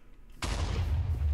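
In the Minecraft Orespawn mod, where the giant moth Mothra seems to be fighting, a sudden loud explosion erupts after a brief quiet start and rolls into a sustained booming rumble.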